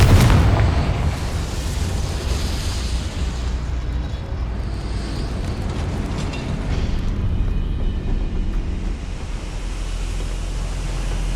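The Confringo fire spell goes off in the Hogwarts Legacy video game, a loud deep explosive blast that fades into a long roaring rumble, heavy and sustained throughout.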